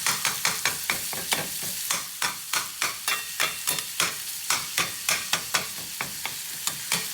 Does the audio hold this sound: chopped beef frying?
yes